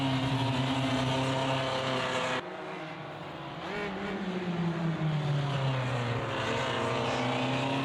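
Formula Vee race cars in a PC racing sim, engines droning steadily with harmonic whine, one car's pitch sweeping down as it passes, continuous loud engine noise throughout with no voices.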